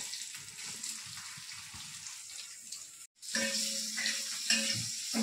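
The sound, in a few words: onion added to hot mustard oil, sizzling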